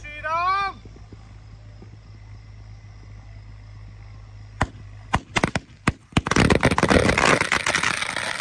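A string of firecrackers set on a motorbike bursts in a rapid crackling run of sharp bangs after a few separate loud pops, preceded by a quiet stretch with a brief whistling tone at the start.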